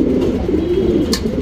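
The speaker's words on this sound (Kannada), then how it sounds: "ಇದು ಇವಾಗ ಏನು ಜಸ್ಟ್ ಕವ್ವ ಮಕ್ಷಿ ಗಂಡು ತೋರಿಸ್ದೆ" A male Kaawa Makshi pigeon coos steadily at close range, a low continuous murmur with no voices present.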